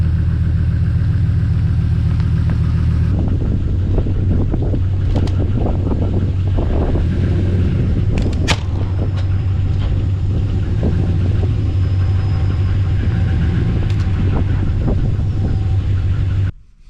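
A pickup truck engine drones loud and steady, with the truck driven up a small ramp onto a beadbuster to pop a tire bead off the wheel on the trail. Rough thumps, creaks and wind buffeting ride over the idle before it cuts off.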